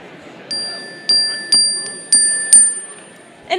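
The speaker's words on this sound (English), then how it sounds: "if you hear my chime, it means I'd like you to listen to me" A chime is struck several times to call a room of people to attention, with clear, ringing metallic tones repeating about every half second and sustaining over faint background murmur.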